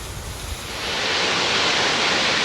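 Federal Falls pours down into a valley as a steady, loud rush of water that swells a little after the first second and then holds a dense, unbroken roar.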